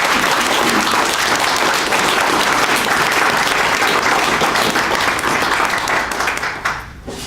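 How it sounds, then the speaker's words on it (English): Audience applause at a city council swearing-in ceremony, steady and full for about seven seconds before tapering off near the end, with no voices standing out. "even though we just applauded"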